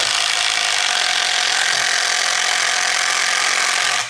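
A continuous, harsh whirring-grinding noise of an OSUKA OCID822U cordless impact driver driving a screw into wood, steady and close, with no pauses or voices.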